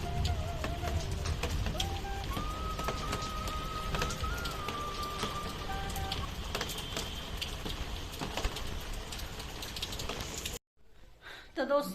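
Steady rain falls outside a window, a broad continuous hiss with scattered drip ticks, while background sounds and faint birds or pigeons mix in; the wash cuts out abruptly near the end.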